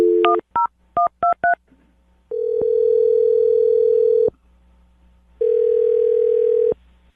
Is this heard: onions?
no